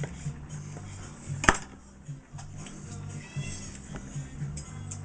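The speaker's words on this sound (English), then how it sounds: "Look, Kitty came back to find more fish" A cat in a kitchen where seafood soup is being made meows for fish, its calls mixed with clinking dishes and utensils and a steady hum of cooking noise.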